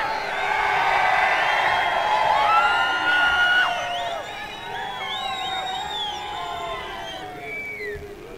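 A large crowd at a Hindu Jan Aakrosh Morcha political rally in Akkalkot, Solapur, cheering and whistling loudly, with a sustained roar that swells and then slowly eases off.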